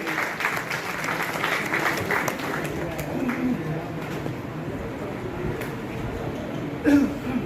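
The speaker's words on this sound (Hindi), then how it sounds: "जोरदार तालियां बजती रहनी चाहिए" Audience applause fills a hall at the Dr. Ambedkar Bar Association oath ceremony in Agra, a steady, dense wash of clapping that runs throughout with a voice talking over it.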